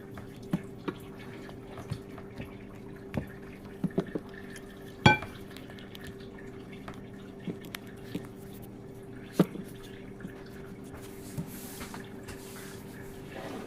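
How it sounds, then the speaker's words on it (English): Sourdough bread flour is stirred with water in a bowl, producing soft wet mixing sounds punctuated by scattered light clinks and knocks of a utensil against the bowl, with one sharper tap partway through. "So we're going to mix that in, hydrate that flour."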